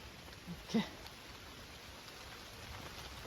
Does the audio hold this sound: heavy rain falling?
yes